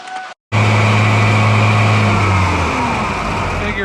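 A tractor engine idles smoothly and steadily without missing, a loud, close, even mechanical drone that holds constant after a brief silence at the start.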